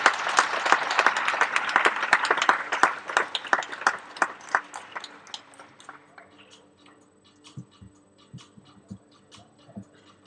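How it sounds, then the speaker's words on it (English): Audience applause for a barista's cappuccino set at the 2015 ABC coffee competition final, dense and loud at first, then thinning over several seconds into scattered individual claps. "A round of applause for Sasa's cappuccino set."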